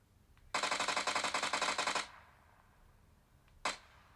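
Rapid automatic gunfire in the PUBG video game: a dense burst of about a dozen close, loud shots over roughly one and a half seconds, a decaying tail, then one more sharp shot.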